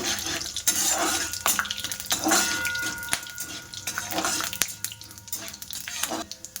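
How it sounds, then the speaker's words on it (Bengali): Dried red chillies cut into small pieces frying with panch phoron in a little oil while being stirred, giving a steady close sizzle with scraping and clinking from the stirring. "ওর মধ্যে পাঁচ ফোড়ন দিয়ে দেব দিয়ে হালকা তেলের মধ্যে নাড়াচাড়া করে নেব"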